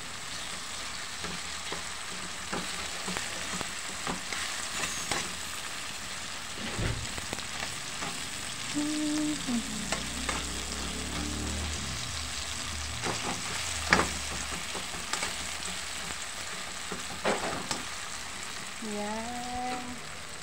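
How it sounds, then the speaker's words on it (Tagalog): Egg and tomatoes frying in a pan, a steady crackling sizzle running throughout with a few clinks and low rumbles of handling underneath, fairly quiet and close. "Magpipirito lang ako ng itlog eh,"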